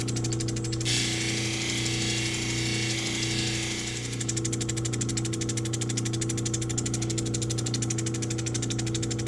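A lapidary Nova polishing wheel grinds a stone cabochon with a steady motor hum and a close, fast rhythmic whir. A hissing scrape of stone on the wheel comes and goes.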